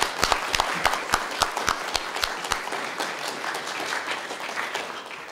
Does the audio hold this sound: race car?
no